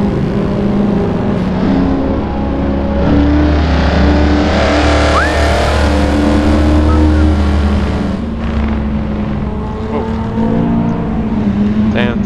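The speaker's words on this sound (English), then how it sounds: "Oh, the M3 is overtaking everyone." BMW M3 car accelerating and overtaking during a highway cruise event with a large group, in a driving game, producing a loud, steady engine roar that swells and recedes, with voices chatting over it.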